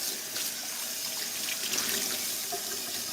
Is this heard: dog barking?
no